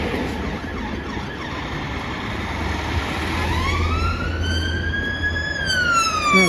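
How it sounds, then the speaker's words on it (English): A police siren wails during a street protest in Leeds. It starts distant under traffic noise, then rises and swells into a loud, sweeping tone as the car draws nearer. "can you hear a police car?"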